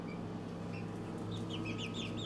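Faint high cheeps and soft clucking from small birds over a low steady hum, quiet and somewhat distant.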